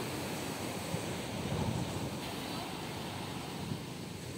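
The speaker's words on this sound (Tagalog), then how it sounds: "Laking alon." Big sea waves surge and wash in a steady broadband roar with strong wind buffeting the microphone, heard from a boat out on the open water near fishing nets, continuous and fairly loud with no clear break.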